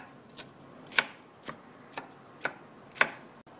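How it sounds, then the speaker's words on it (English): Knife chopping the seedy core of a zucchini on a board, six sharp separate taps spaced roughly half a second apart, close and fairly quiet. "Chop up the inner seed part of the zucchini and keep it aside for the sauce."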